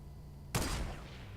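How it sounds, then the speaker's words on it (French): A single sharp sniper rifle shot in Fortnite cracks out loud and close, then trails into a short fading echo over quiet game ambience. "je le tryhard avec mes balles de snipe qui ne passent pas"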